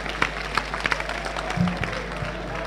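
A church congregation at a joint worship service applauds in praise of Jesus Christ, scattered claps rising over a steady low hum, with a brief voice or organ-like tone midway.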